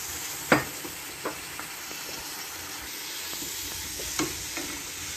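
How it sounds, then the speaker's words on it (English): Mutton pieces sizzle quietly in a hot pan for a thick masala, with a steady low hiss broken by a few sharp clinks and scrapes of stirring. "now I'm going to add the mutton"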